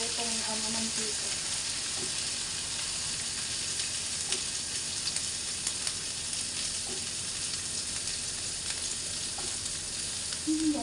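Filipino longganisa sausage frying in cooking oil, a steady moderate sizzle and hiss with faint stirring and brief voice traces.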